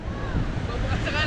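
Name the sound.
ocean waves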